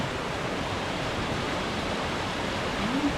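Continuous rushing water of the Horodylivskyi waterfall in Ukraine roars evenly at moderate level, a dense wash of noise with no talk.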